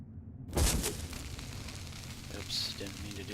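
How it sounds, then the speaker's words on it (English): Copper bombs blasting through blocks while mining in the game Boundless: a loud burst near the start with a couple of sharp pops, then a lighter crack later over low rumbling background. "So we'll demonstrate the copper bombs one more time."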